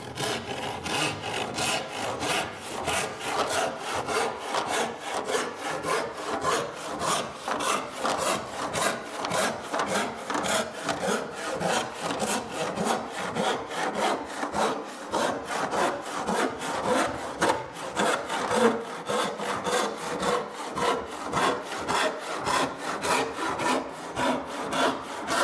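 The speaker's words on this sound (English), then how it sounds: "I'm just going to saw a 1/4 inch off the edge here." Hand saw ripping a quarter inch off the edge of a wooden board on a workbench, with a long run of fast, even back-and-forth rasping strokes, close and steady.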